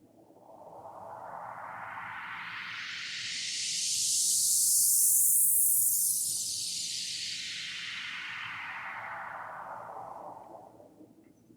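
A white noise sweep processed with an auto-pan effect in Pro Tools, a steady hissing wash that rises to a bright peak at mid-point and then falls away smoothly, heard alone with no voices.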